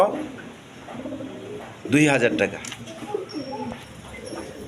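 Pigeons of the Pankhi breed coo in a loft, a throaty burst near the middle with softer coos around it, close by under someone talking.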